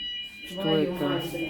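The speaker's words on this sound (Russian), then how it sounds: "А, это сигнализация сработала." Indoor smoke alarm set off by grill smoke, a steady high electronic beep sounding continuously while people talk and exclaim loudly over it.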